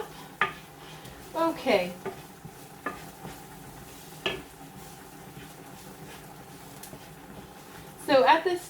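A spoon stirring turmeric into a cooking mixture in a pot during a vegetarian cookery class, a few soft scrapes and clinks spaced apart under a voice talking.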